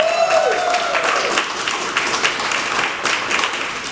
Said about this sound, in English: give a huge round of applause to Sean Dills